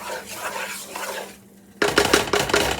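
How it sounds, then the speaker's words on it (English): Spoon stirring flour into a pan of white country gravy for fried hamburgers, a steady scraping and rubbing that pauses briefly, then returns louder and more vigorous near the end. "I'm just stirring the flour out, that flour taste."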